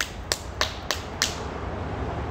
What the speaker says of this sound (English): Uh-oh, I clapped.